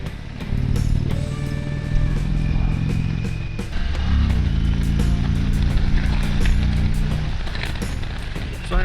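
A 2021 Indian Chieftain Elite V-twin motorcycle cruises in top gear, its engine a loud, steady low drone with a slight pitch shift partway through as the rider adjusts the throttle, overlaid by wind rush; no speech is heard.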